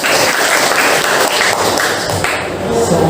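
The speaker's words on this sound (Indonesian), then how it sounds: "Kasih aplaus dong." An audience claps in a sustained, loud wash of applause that stays dense and even throughout, with no single claps standing out.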